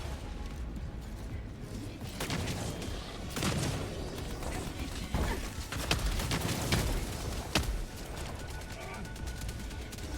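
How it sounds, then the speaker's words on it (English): Autocannon and sentry turret fire in the video game Helldivers 2, a dense stretch of rapid shots and booms with mechanical clatter, fairly loud and continuous, with game voices mixed in. "Here comes auto cannon. Sending down sentry. Calling down a sentry."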